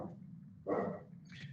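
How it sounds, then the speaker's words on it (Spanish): A dog gives a single short, muffled bark at close range, followed by a faint higher yip, heard alone against a quiet background. "Y dale con el perro característico"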